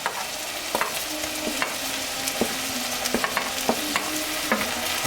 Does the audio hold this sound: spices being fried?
yes